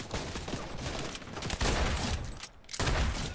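Rapid bursts of automatic gunfire in Fortnite, loud and close, come in several sustained volleys separated by brief gaps.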